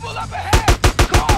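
Gunfire in GTA San Andreas: six loud, evenly spaced shots in quick succession, close and punchy, over faint game background.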